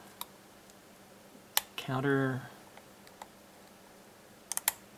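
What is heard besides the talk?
lock clicking while being picked with tensioner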